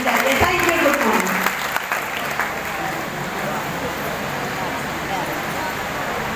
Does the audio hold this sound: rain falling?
no